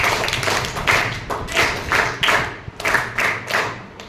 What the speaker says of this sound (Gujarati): બેનને આપણે 3 તાળી.